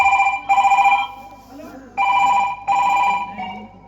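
An old-style telephone bell rings indoors in repeated short double bursts, loud and close, with brief quiet gaps between the rings.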